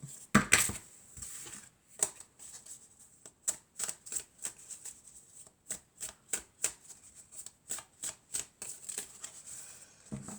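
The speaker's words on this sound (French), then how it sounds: "on va prendre quelques cartes de l'oracle de la Triade" Oracle cards shuffled by hand during a tarot-style reading, a run of quick riffling bursts with short pauses between them, close and crisp, with no talking.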